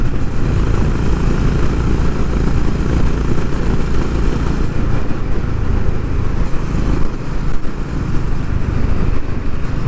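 A Honda H'ness CB350 motorcycle engine thumps steadily while riding, loud and close, its low drone mixed with heavy wind rush and road noise, with no talk.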